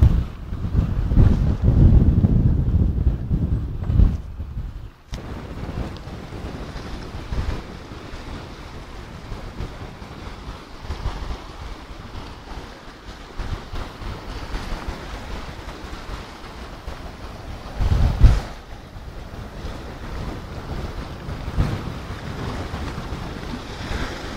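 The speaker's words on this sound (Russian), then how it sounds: "Штормит сегодня, однако." Strong wind buffets the microphone while stormy waves crash and surge on a nearby beach, with heavier gusts and breakers rising at moments throughout.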